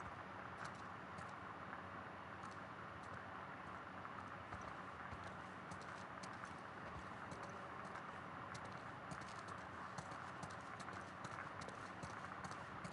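Horse hooves clip-clop steadily on a patrol ride in The Last of Us Part II, a continuous rhythmic plodding under a constant outdoor hiss with no talk.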